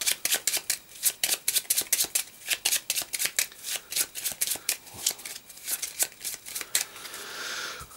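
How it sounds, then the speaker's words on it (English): Playing cards shuffled by hand during a solitaire-style card game, a rapid run of crisp riffling flutters and snaps, close and steady, with no talk. "I've got 1, and I need these shuffled."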